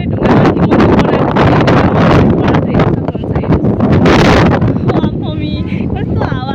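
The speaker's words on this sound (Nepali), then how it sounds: "कस्तो हावा आएको हेर्न सक्नुहुन्छ।" Strong wind blows across a hillside stone temple in Myagdi, buffeting loudly and continuously against the microphone, with faint sounds near the end.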